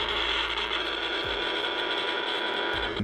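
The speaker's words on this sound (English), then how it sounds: "This is what it sounds like when ROM is in his respirator mode." Steady electronic hum and buzz from a 1979 Parker Brothers ROM Space Knight toy in respirator mode, a short continuous mechanical-sounding drone lasting about three seconds, heard alone.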